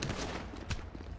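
Rapid gunfire in a GTA V roleplay game session, a dense continuous burst of loud shots filling the whole moment with no clear pauses between them.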